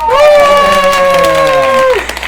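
A single voice imitates a cheering, applauding crowd at close range with a sustained, drawn-out 'ahh' crowd sound, loud and alone for about two seconds before it cuts off.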